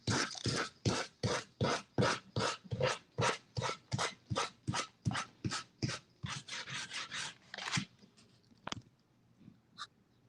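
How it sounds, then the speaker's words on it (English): Sandpaper scrapes the edges of a dried craft piece in about twenty close, even back-and-forth strokes that slow and trail off near the end. No voices are heard. "This one's dry enough that I can sand off the edges."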